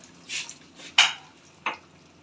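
A few scraping strokes of a spoon stirring egg curry mixture in a pan, three short close scrapes with quiet between them, no voices.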